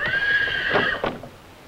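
A horse lets out a loud, close whinny, rising and then breaking into shaky trailing neighs, with faint hoof clatter around it.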